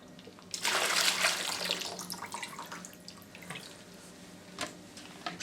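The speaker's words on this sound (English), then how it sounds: "So now you're going to empty out the water from the canister." Water pours out of an emptied reverse osmosis filter canister during a carbon prefilter and resin change on a HiFlo RO30C unit, a loud splashing gush at first that tapers to quieter trickles and drips.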